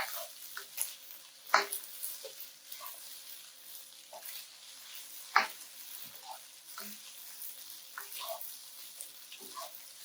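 Turmeric stir-fry rice is stirred in a frying pan. A quiet, crackly sizzle runs under repeated scraping and tapping strokes of a utensil, with a couple of sharper knocks against the pan.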